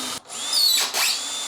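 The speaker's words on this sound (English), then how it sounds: "So I always drill these holes out with a very small drill bit first to start a pilot hole." Small-bit power drill boring pilot holes into an inverter mounting for an off-grid split-phase solar build; a close, steady whine that dips briefly, then rises and surges twice over about a second and a half, with no talk.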